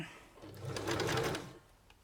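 A sewing machine stitches fabric ruffles, running in a single close whirring burst of about a second that starts and stops abruptly, with no talking.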